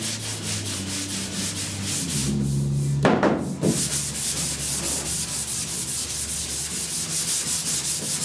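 Block sanding primer/surfacer on the rusty roof of a 1969 Chevrolet C10 pickup truck, steady rhythmic back-and-forth rasping strokes close up, with a brief heavier scrape midway.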